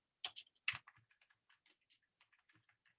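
Typing on a computer keyboard, a quiet run of irregular clicks and taps with a few louder keystrokes, close and alone without any voices.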